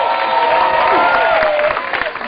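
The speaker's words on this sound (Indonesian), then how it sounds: "tepuk tangan sekali lagi buat Selvi." Applause for a singer after her song at a Wayang Kampung Sebelah puppet show, a short burst of crowd clapping with cheering and voices mixed in, loud and steady before easing off.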